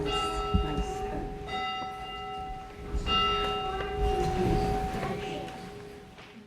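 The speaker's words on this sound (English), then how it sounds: "And with the tolling of the bell in Quincy's first church" A church bell in Quincy's first church tolls repeatedly, each ringing stroke sustaining long bright overtones that overlap the next, steady and fairly close, with a low rumble of outdoor background beneath.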